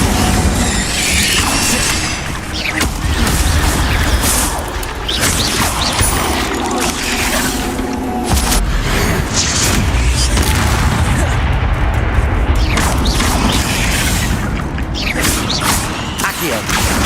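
The Incendio fire spell cast repeatedly in the Hogwarts Legacy video game, heard as loud, continuous bursts, booms and crackling combat effects layered in a dense, unbroken wall of game sound.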